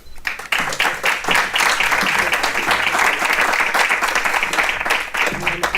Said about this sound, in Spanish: un aplauso para ella